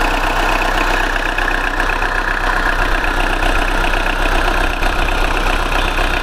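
A car engine idles steadily and loudly up close in a used car shop, an even continuous mechanical hum with rapid ticking texture and no breaks or voices.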